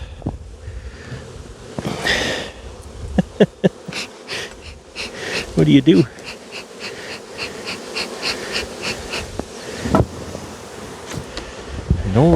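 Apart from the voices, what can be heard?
honey bees buzzing around hive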